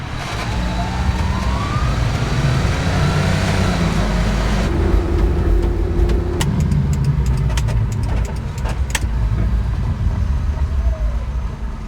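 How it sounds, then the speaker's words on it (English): A Japanese kei mini truck's small engine revs and drones loudly with a buzzy, lawnmower-like rattle, pitch shifting as it accelerates, with ticking and clicking noises mixed in. "when you press on the gas, it legitimately sounds like you're turning on a lawnmower"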